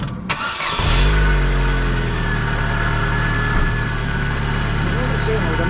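A Vauxhall Corsa, with a thermostat fault, cranks briefly, catches and settles into a steady, fairly loud idle with a low engine rumble that carries on throughout.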